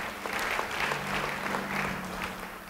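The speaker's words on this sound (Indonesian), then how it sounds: "Beri tepuk tangan bagi dia." A church congregation claps together during a sermon, a full, steady round of applause with a low sustained tone beneath it and no clear talk.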